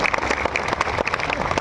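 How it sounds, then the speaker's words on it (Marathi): A crowd at a comedy speech event in Buldhana applauds with dense, steady clapping that rises and falls throughout, nearby and fairly loud, with no talk over it. "एकदा जोरात टाळ्या वाजवा पवन भाऊसाठी."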